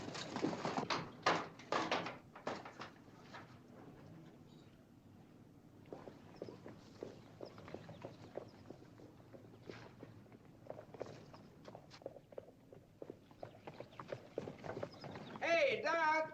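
Hooves clip-clop at a walking pace, fairly close, with voices talking over them throughout.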